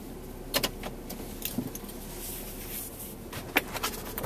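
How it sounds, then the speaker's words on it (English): An old car creaks and rattles while driving, with scattered clicks and jangling knocks over a low steady road rumble, close and fairly quiet. "creaky old car"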